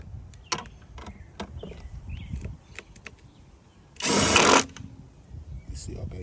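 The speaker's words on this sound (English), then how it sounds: "now I'm gonna run them on with this impact driver here" A brief, loud burst of an impact driver running bolts into the upper oil pan of a 2017 Nissan Sentra, lasting under a second amid scattered clanks and handling noises in a workshop.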